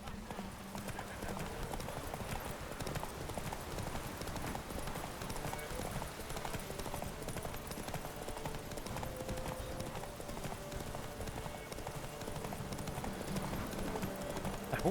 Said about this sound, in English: A horse named Succubus.